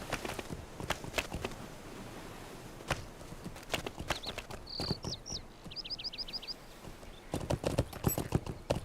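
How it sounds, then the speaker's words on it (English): Horse hooves walk in The Lord of the Rings Online, clear evenly spaced clops that pause midway while bird chirps and a whinny come through, then the footsteps resume louder. "I could, in theory, get rid of my horse hooves,"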